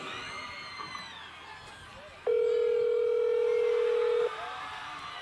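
A telephone tone sounds during a call: a loud, steady single-pitched beep holds for about two seconds, with faint background noise before and after.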